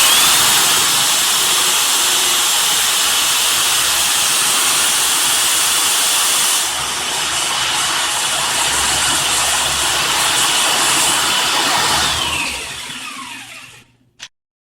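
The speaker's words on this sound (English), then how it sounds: "what I'm doing is reversing the drill" A power drill whips mead, running as a loud, steady whirring hiss, briefly dipping and resuming in the reverse direction before winding down and stopping, with a small clunk at the end.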